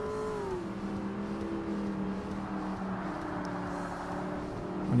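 TVR race car in Forza Motorsport, an A Class endurance race, its engine droning steadily with a rising pitch, a continuous loud whine with no talk.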